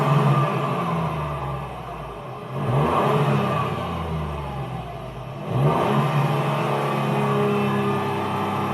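A 2020 Toyota GR Yaris three-cylinder engine and exhaust rev repeatedly, with two distinct rising blips over a steady, throaty idle, sounding close and fairly loud with no one talking.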